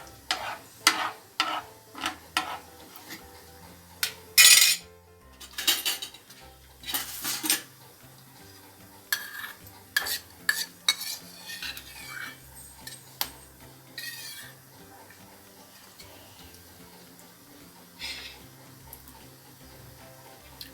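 Cumin seeds being sautéed in a pan, heard as a run of sharp metallic clinks and scrapes from a spoon against the pan, loud and irregular at first and sparser later, with a faint sizzle underneath and no talk.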